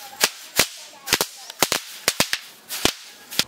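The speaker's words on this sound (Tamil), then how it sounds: "ஆனால் அடித்த மட்டும் கீழே வெடிக்குது" Pop pop snap crackers dropped from about 20 feet onto paper burst in a rapid, irregular string of sharp, close snaps and cracks, a dozen or so within a few seconds, with no talking.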